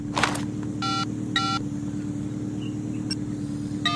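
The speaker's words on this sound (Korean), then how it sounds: "아니면 일리아나도 전화를 따로 해야 되나?" Phone keypad tones beep in two short bursts as a number is dialed in the video game Sleeping Dogs, over a steady low engine-like hum with a faint click near the end.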